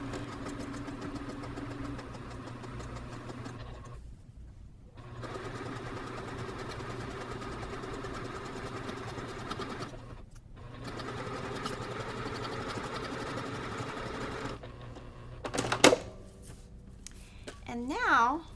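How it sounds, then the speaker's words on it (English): Sewing machine stitching along a drawn line on the back of fabric for a cross stitch ornament finish, running in a steady close whir with two brief pauses and a few clicks near the end. "then we're going to go to the sewing machine and we're going to stitch directly on this line on the back"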